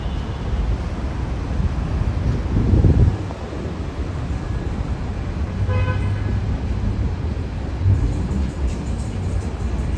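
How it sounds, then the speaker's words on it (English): Manhattan street traffic on a Friday night, a steady roar of cars with a short horn toot partway through, a louder rumble near the start, and wind buffeting the microphone throughout. "But you do get a lot of traffic."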